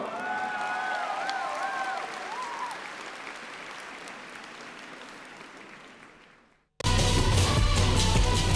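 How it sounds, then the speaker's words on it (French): A crowd at a cosplay contest at Japan Expo applauds a contestant on stage, a dense, loud wash of clapping that slowly fades, then breaks off and returns abruptly. "On l'applaudit très fort."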